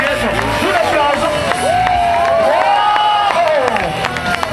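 Spectators at a skateboarding contest in an arena cheer and clap after a skate trick, a loud, dense roar with whistles and shouts running the whole time.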